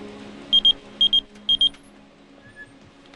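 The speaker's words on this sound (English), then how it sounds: "Luckily, the beeper worked." A pager beeper sounds three quick double beeps, each pair short, bright and evenly spaced, fairly close and clear above a low background hum.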